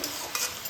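Cabbage and potatoes being stirred in a pan, a soft scraping swish with a light sizzle running underneath, brief and close with no voices.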